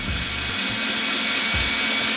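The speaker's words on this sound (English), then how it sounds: "So now we're attempting to drill through it" A power drill boring through a stuck crankshaft pulley on a supercharged NB Mazda Miata MX-5, a loud continuous whirring whine held steady and close with slight load changes, no talking.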